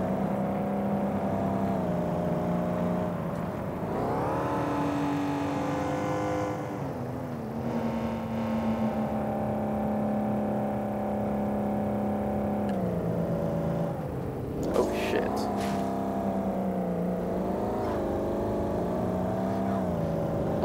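A 2012 Range Rover engine in the City Car Driving game drones steadily while off-roading, with pitch rising and falling as it revs and eases, including a sharp surge midway, heard alone without talk.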